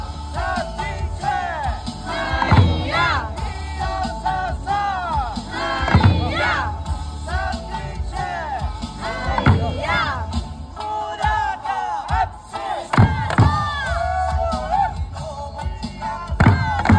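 A crowd shouts a chant together at an Okinawan Eisa dance performance during a Tanabata festival, with heavy drum thumps landing every few seconds under the lively, continuous voices.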